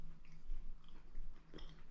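Close, quiet chewing of soft cooked squid with a slight crunch, a few soft bites and mouth sounds over a faint outdoor background with no talking.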